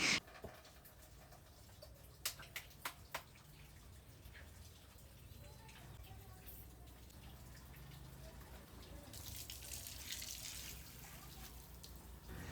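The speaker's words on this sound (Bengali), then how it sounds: "এখন যে তুলসী গাছে জল দিচ্ছি" Water poured onto a tulsi plant at home splashes and trickles steadily at low level, with a few sharp knocks near the start and the flow growing slightly louder toward the end.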